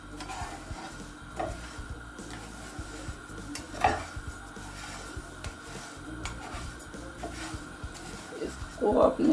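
Ingredients are dry-roasted in a pan for a few minutes while a spoon stirs them, making soft scraping and occasional clinks over a faint sizzle, with someone talking throughout.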